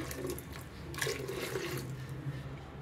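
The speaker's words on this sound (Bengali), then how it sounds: "আর একটু জল লাগবে, এই দেখুন জল দিচ্ছি।" Water pours into a pot of Bengali lentil sukhta with shiuli leaves as it cooks, a soft continuous splashing and trickle close by.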